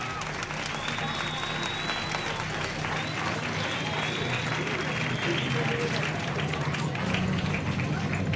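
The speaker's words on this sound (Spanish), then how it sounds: "un aplauso para todos ellos" A crowd at a ceremony in Guatemala marking the World Day Against Child Labour claps together in a continuous, even wash of applause that holds steady from start to finish.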